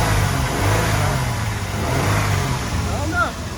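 A car engine runs close by with a rough, throbbing idle and rises into a couple of revs, with a brief voice heard near the end.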